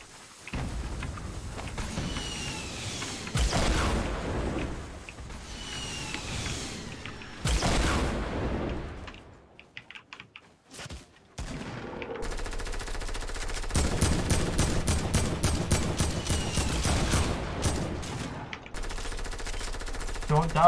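Rapid automatic gunfire and explosive shots from a Fortnite match, in repeated dense bursts with brief pauses, loud and close, sometimes mixed with excited players talking.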